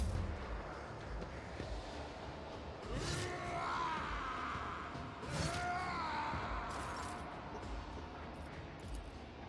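Pistol shots in the video game Rogue Trader land as a couple of booming, echoing blasts over a dense, rumbling battle soundscape, with no talking.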